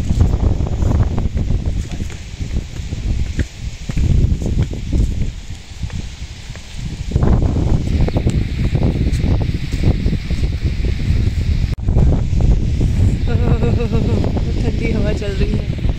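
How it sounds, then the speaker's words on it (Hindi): Cool wind blowing outdoors at a seaside resort in Kuwait, a steady loud gusty rush buffeting the microphone for the whole stretch, with a voice speaking over it. "एकदम ठंडी हवा चल रही है।"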